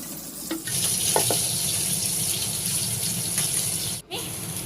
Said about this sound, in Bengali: পেঁয়াজ আর টমেটোটা আমি ধুয়ে নিলাম